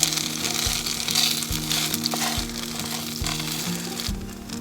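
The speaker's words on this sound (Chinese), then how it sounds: "把这年糕放进去，开始煎了。" Sliced rice cakes pan-fry in oil on a camping stove in freezing outdoor weather, giving a close, steady sizzle with soft crackle and occasional light utensil knocks, no voices.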